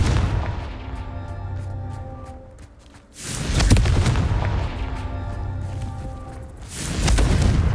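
Two heavy blasting-spell explosions from Hogwarts Legacy gameplay, each a loud booming burst with a rumbling tail, about three seconds apart over a low droning game backdrop.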